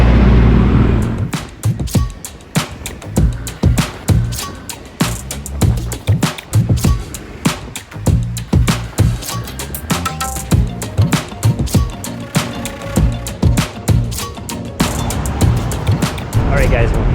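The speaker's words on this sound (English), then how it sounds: "I'm going to try to take a Moto taxi like Angkas" Wind buffets and road rumble roar during a motorcycle taxi ride through Philippine city traffic, loud gusty noise with irregular bumps and passing engines throughout.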